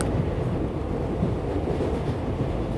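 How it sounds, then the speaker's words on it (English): A train rolls along its tracks with a low, steady rumble and humming, heard as a continuous, moderately quiet drone from inside or nearby, no voices present. "The rhythmic swaying and humming of the train feels like a lullaby"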